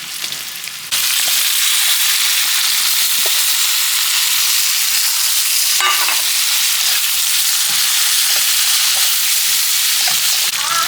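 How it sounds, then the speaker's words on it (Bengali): Shrimp sizzles loudly in a hot pan with ground coriander, ground cumin and two small tomatoes, a constant close frying hiss broken by occasional stirring scrapes. "এবার এই চিংড়িকে ভালোভাবে কষিয়ে নেব।"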